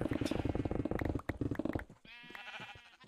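Repeated loud bleats from a flock of sheep in the Minecraft video game, near and overlapping in quick bursts, followed by a few softer, higher calls.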